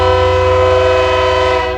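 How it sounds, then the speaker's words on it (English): A train whistle sounds as the 8:30 train passes through the south side of Indianapolis during a baseball game, one loud, sustained, chord-like blast held steady for about two seconds with no talk over it. "As you hear the 8:30 train whistle coming through the south side of Indy."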